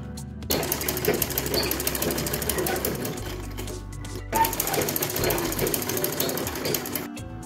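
A sewing machine runs a steady, dense mechanical whir while stitching a second line along a blouse neckline. It starts after a brief pause, stops for a moment mid-way, then runs again, close and continuous.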